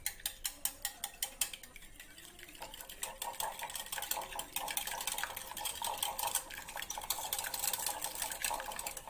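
Spanish omelette egg mixture with chopped vegetables and coriander leaves being beaten in a bowl, quick rhythmic clicking and tapping strokes, close and steady, with no talking.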